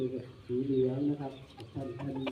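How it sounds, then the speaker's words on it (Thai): A chicken clucks and croons in short, low bursts at close range, with another bird calling faintly in the background. "ก็ถือว่าเป็นไก่ มาให้เพื่อนๆดูอีกหนึ่งตัวนะครับ"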